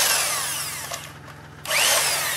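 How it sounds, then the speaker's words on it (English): An electric impact wrench whirs steadily and loudly at close range while a seized wheel is worked on a 2002 Chevy Malibu in cold weather, with a brief dip in pitch midway before it spins back up. "here's my trusty electric impact"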